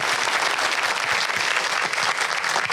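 Studio audience at an Eid-ul-Adha special show applauding for Lala, a dense, steady wash of many hands clapping loudly throughout with no voices over it.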